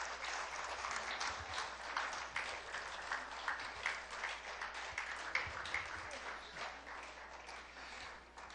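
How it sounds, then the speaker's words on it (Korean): Church congregation at a Friday service applauding as a group files in, a faint, steady wash of many hands clapping for the whole stretch, distant in the room. "다 들어가실 때까지 큰 박수 부탁드립니다."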